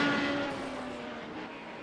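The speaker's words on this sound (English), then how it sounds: "the way the revs are coming out of the corner" Inside a Radical race car at Road Atlanta, the engine drones loudly out of a corner in a gear too high, its pitch sagging slightly as the revs fall, with steady road and wind roar and no talk.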